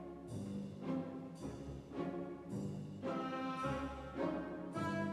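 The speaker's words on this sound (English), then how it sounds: "So this is the theme of the hunters." Orchestra plays the hunters' theme from Peter and the Wolf, a busy passage mixing many instruments with repeated accented phrases, moderately quiet and steady, with no talking.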